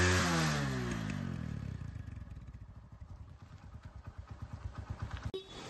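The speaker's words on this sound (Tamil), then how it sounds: "இப்போ வண்டியோட பீட்டை பாருங்கள்." Hero Honda CD100SS motorcycle engine running, starting with a revving whine that settles into a steady, close, thumping idle beat with a sharp clunk near the end.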